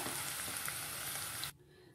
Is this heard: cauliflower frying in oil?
yes